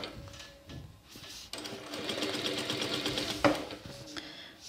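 A sewing machine runs a steady stitching line along the neckline seam of a light linen summer blouse. The motor hums continuously for about two seconds, close and moderately loud, between quieter handling sounds.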